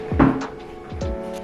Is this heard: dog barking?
no